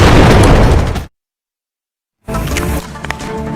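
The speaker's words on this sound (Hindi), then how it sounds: "जिस तस्वीर में आपको धमाके की गूंज सुनाई देगी।" An explosion at a railway station in Pakistan, heard as a loud, dense roaring burst that cuts to complete silence and then resumes as heavy rumbling noise with scattered pops.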